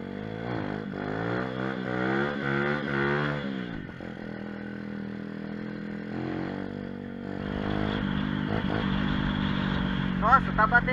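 A mini moto pit bike engine drones while being ridden, its tone rising and falling with throttle changes. It sits under wind rush and a rider's casual talk.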